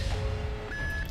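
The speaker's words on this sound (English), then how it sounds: "Bloody alarm on." Alarm beeping in the Perfect Dark video game, a steady electronic tone that jumps to a higher pitch partway through, heard over a low rumbling game background.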